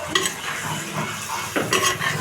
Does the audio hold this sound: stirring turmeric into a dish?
yes